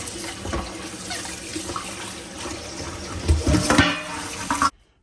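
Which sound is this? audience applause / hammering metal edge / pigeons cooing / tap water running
tap water running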